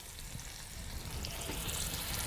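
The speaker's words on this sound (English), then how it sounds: "Hear that? That's called a sizzle." Meat sizzling in hot avocado oil in a 12-inch oven over a mesquite fire, a steady, fairly loud crackling hiss that continues throughout.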